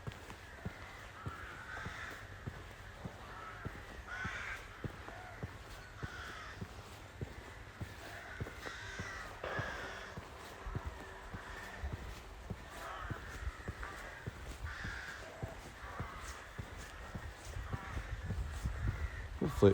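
Crows caw repeatedly outdoors on a nature walk in the countryside, harsh calls scattered through the whole stretch over wind and low rumble, with occasional footstep-like thuds near the end.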